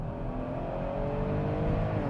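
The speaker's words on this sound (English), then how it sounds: "It does sound good, this thing." A Porsche Cayenne engine runs with a steady, full-bodied drone and a slight rise in pitch, close by and continuous with no talk over it.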